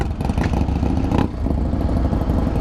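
A Harley-Davidson Fat Boy, a 2018 model, fitted with a Bassani exhaust, rumbling loud and close with a deep, steady throb and a brief swell of throttle midway.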